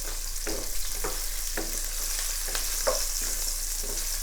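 Onions frying in a pan for a bell pepper and potato curry, a steady loud sizzle with a few soft stirring scrapes, close and with no talk.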